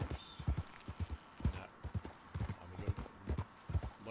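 Steady horse hooves clip-clop in an even walking rhythm in the video game Red Dead Online, fairly quiet, with occasional faint voices underneath.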